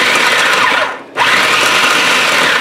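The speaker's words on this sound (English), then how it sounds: "If you have a food processor with an S-blade, it will work just as well." A food processor with an S-blade chops peppers, onions and meat, giving a loud, steady whirring drone that cuts out briefly near the middle, then starts again and runs on.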